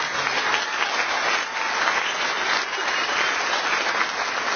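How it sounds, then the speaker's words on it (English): An audience at a junior high spring band concert claps steadily in a dense, sustained burst of applause, even and continuous throughout. "They deserve a round of applause for that."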